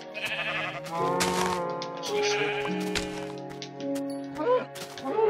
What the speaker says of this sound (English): I'll kill a sheep first